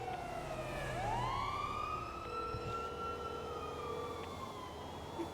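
A police car siren wails nearby, its tone sweeping low then rising into a long sustained howl, carrying over a muffled background rumble of traffic.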